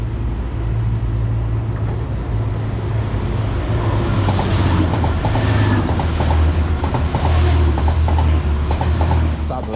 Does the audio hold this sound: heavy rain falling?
no